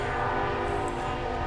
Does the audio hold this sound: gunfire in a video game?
no